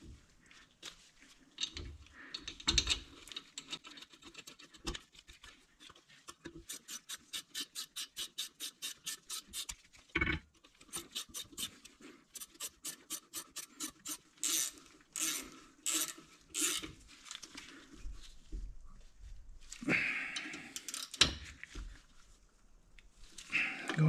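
12mm caliper bracket bolts being threaded back in on a Honda Odyssey rear brake, heard as repeated quiet rasping ratchet clicks in quick bursts with short pauses, close by and faint, with little talk.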